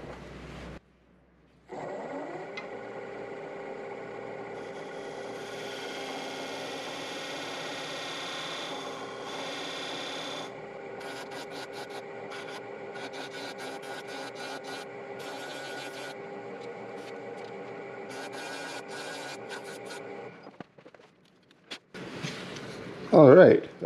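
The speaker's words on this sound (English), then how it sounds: "Now I'm just going to use my skew chisel to try to clean that out there without destroying that floating disc." Skew chisel cutting wood on a lathe while turning a potpourri box with a floating disc, a steady whirring scrape that runs continuously for about twenty seconds before stopping, followed by a brief louder handling noise.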